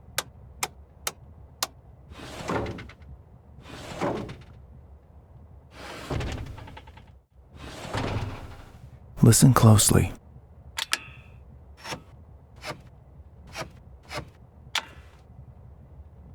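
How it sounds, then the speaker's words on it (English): Cockpit switches, levers and dials of a Cessna 172 trainer in the A2A Accu-Sim flight simulator, clicked one at a time: crisp, close single snaps spaced through quiet, with a few longer rattling lever and dial movements and a brief voice at the start. "Everything you hear is a high-quality recording of the actual switch or lever or dial that I'm clicking."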